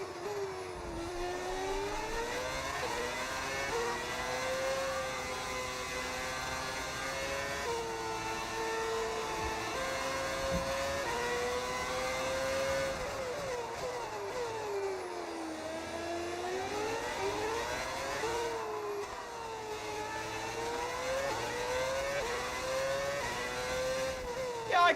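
A modded V10 Formula 1 car in an F1 racing game screams along steadily at high revs, its whining pitch rising and falling through gear changes and corners, loud and continuous throughout.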